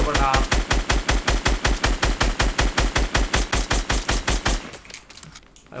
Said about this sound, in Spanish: está disparando el otro